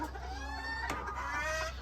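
Mini Cornish chickens, a meat breed kept in a small ornamental flock of three birds, cluck softly and repeatedly nearby in a short burst of throaty calls.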